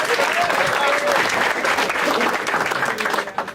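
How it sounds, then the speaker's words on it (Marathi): Audience at a Marathi stand-up comedy show breaks into loud, sustained applause with some crowd noise, the clapping holding steady throughout and thinning slightly near the end. "एकदा टाळ्या होत्या त्याच्यासाठी पुन्हा एकदा"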